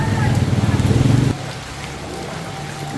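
Rain falling outdoors during a passing shower, a steady wash of patter on surfaces; a louder, throbbing rumble fills the first moments before dropping away to the gentler rain alone.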